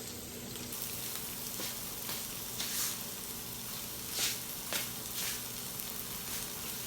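Habanero peppers sizzle and crackle in hot olive oil in an already heated pan, a steady close hiss with scattered louder pops and spits, no talking.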